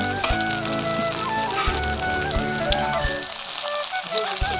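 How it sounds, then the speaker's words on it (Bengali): Onions sizzle and crackle in a hot pan, frying until browning, a dense close frying hiss with faint clinks, the sizzle thinning toward the end. "পেঁয়াজটা ব্রাউন কালারের হয়ে আসছে ততক্ষণ ভাজতে হবে।"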